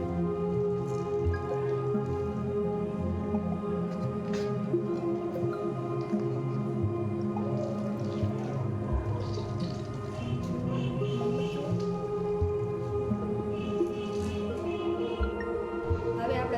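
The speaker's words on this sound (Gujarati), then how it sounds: "આપણે એને આવી રીતે નીચવીને કાઢી લઈશું બધું વધારાનું પાણી કાઢી નાખવાનું છે" Water dripping and splashing as excess liquid is squeezed by hand out of grated bottle gourd, with soft repeated drips and squishes heard faintly over a steady tonal background.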